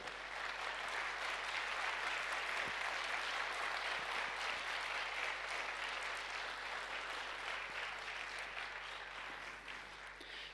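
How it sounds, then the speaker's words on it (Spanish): A church congregation claps steadily in sustained, dense applause that stays loud throughout, fading slightly at the close. "Dale un fuerte aplauso a Él."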